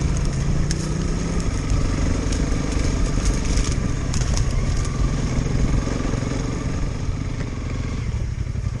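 A Honda CRF 300 L motorcycle rides off road in fifth gear, its engine a steady, fairly quiet drone with some rattling and clatter over rough ground, no voices.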